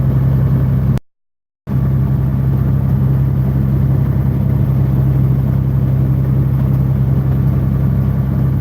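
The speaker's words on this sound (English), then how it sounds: "because it's got the Caterpillar engine instead of Cummins engine, it's a little louder" A truck fitted with a Caterpillar engine instead of a Cummins drives on the road from Indianola, Mississippi toward Memphis, its loud, steady engine drone holding throughout with one brief cut, and no talk.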